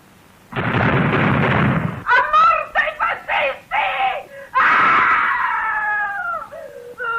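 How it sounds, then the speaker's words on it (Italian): A woman's anguished scream at the Fosse Ardeatine in 1945, opening with a loud, harsh burst of noise, then breaking into a series of short, strained wailing cries and ending in a long, sustained shriek, all close and loud. "questo grido di una donna che alle fosse ardeatine ha riconosciuto suo figlio"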